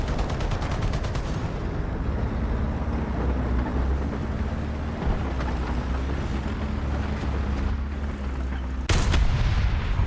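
Tank cannon shots in War Thunder, fired from a Swedish modified BMP-1, the PBV-501, thudding as dense booms under steady engine rumble and battlefield noise, with a sharp loud blast near the end.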